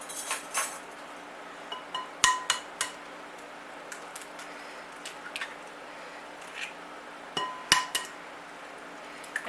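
Two large eggs cracked and dropped into chocolate cocoa brownie batter in a home kitchen: a few sharp clinks of shell on a bowl rim and light wet plops, quiet and close, with faint rattling utensil sounds and no talking.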